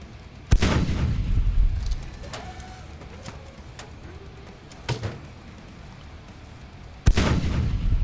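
Weapon fire in the space-sim game Space Engineers, two heavy booming shots several seconds apart with a smaller report between, each decaying into a low rumble, with faint chirping tones in the gaps.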